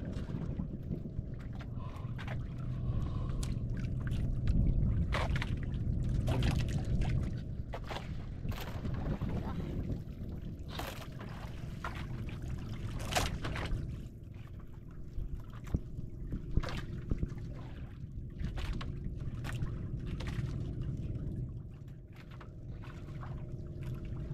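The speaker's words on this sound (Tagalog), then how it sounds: "Malakas ang agos." Strong current flowing past a small fishing boat, a steady watery rush with wind buffeting, scattered knocks and splashes, and voices talking intermittently nearby.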